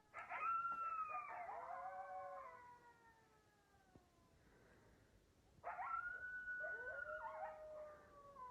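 Several dogs howl together in long, wavering, siren-like tones, two drawn-out bouts separated by a quieter pause filled with soft whimpers, heard fairly close and alone.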